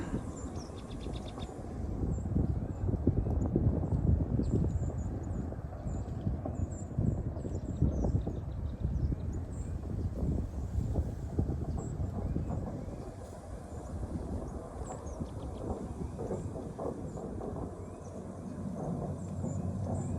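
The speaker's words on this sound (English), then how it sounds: "This is how loud the ice is out there as this boat is trying to go through." Continuous rough, thunder-like grinding and crackling of ice breaking against a moving boat during a snowstorm at -8 F, a dense rumbling clatter with wind noise mixed in.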